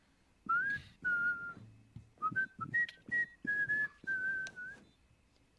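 A person whistles a short tune in clear, close, sustained notes, broken into several phrases with brief pauses and a few low thumps in between.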